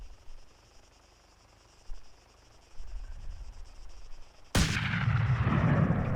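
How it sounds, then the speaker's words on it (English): A GM6 Lynx sniper rifle in the ARMA 3 video game fires a single sharp, loud shot from a ridge about 800 meters from a target helicopter, after a few quieter distant thumps and rustles. "Here I'll take out the attack little bird's anti-torque rotor first."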